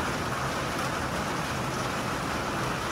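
Steady heavy rain pours at a beach lodge on Camiguin island in the Philippines, a dense, constant hiss of drops on surfaces, close and enveloping with no pauses or voices.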